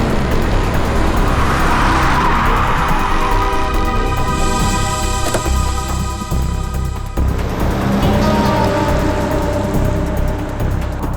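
A car revving up and pulling away, loud and close, with a steady roaring engine and a brief tire squeal, while rain hisses continuously in the background.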